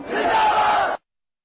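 A crowd at a rally in Muzaffarabad chants slogans in one loud, massed, roaring shout that lasts about a second and then cuts off abruptly into silence.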